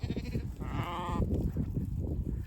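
A single sheep bleats clearly at close range, a wavering cry lasting about half a second amid a large flock, over a low rumbling background of wind or movement.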